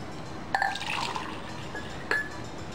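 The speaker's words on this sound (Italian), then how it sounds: "E aggiungere l'acqua" Water poured into a glass holding yeast for whole-grain cereal bread gives a short liquid splash with a light clink of glass, followed by a second brief pour, close and fairly quiet.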